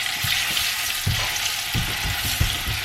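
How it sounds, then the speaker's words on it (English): Banana frying in a big pot with a bay leaf, a steady loud sizzle broken by periodic stirring scrapes and bursts, close and continuous with no talking. "And now we're gonna do the banana until it gets completely like caramelized"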